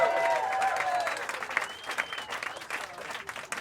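Comedy club audience applauding after a stand-up comedy set at a showcase, a dense burst of clapping that starts loud and slowly thins out over a few seconds.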